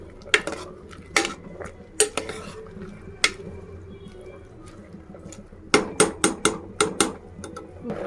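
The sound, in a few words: stirring tomato and curry leaves into curry in a pot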